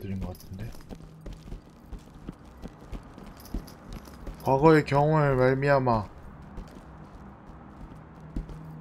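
Quiet, rhythmic footfalls from the game Ready or Not tap along in the background before a person's voice briefly speaks over them, then the faint steps continue.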